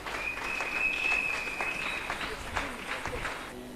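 Church congregation clapping and acclaiming, a moderate patter of applause mixed with voices calling out and a sustained tone, fairly close and lively.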